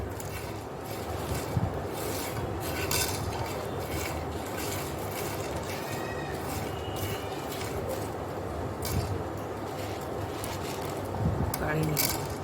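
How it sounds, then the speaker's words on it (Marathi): Whole spices such as cardamom, black cardamom, stone flower, nutmeg, star anise and mace dry-roast in a pan for homemade garam masala, giving a soft continuous rustling and scraping as they are stirred, with faint clinks. "हे सगळं आपण भाजून घेऊया।"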